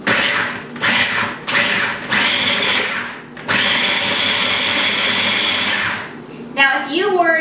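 Food processor pulsing shredded cheese for homemade dog treats, loud whirring bursts of varying length separated by short pauses, one long run near the middle, with a brief voice at the end.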